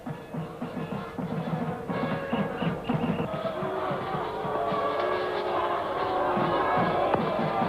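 A large cricket stadium crowd at a Pakistan versus Sri Lanka match roars and cheers steadily, a dense wall of noise with whistles and shouts rising and swelling throughout, fairly loud and continuous.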